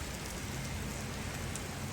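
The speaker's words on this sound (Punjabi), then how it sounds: "ਹੁਣ ਮੀਂਹ ਪੈ ਗਿਆ" Rain falls steadily in early morning farmland, a dense even hiss of drops pattering on surfaces, moderately loud and unbroken with no voices.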